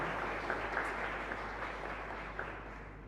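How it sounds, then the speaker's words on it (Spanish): Congregation applauding inside a church during Mass, a steady wash of clapping from many hands that holds for the full three seconds at moderate, even loudness, with no voices over it. "Para ellos yo creo que se merecen un fuerte aplauso."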